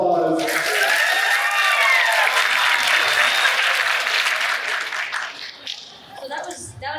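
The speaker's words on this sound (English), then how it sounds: "applause." Festival crowd at a voice-actor panel bursts into loud, dense applause with cheers and whistles rising over it, then the clapping thins out and fades near the end.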